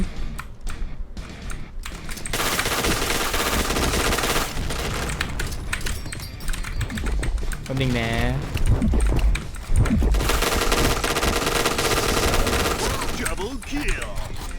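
Rapid bursts of automatic gunfire from the online shooter game Point Blank crackle almost continuously, with keyboard clicks and players talking over the shooting.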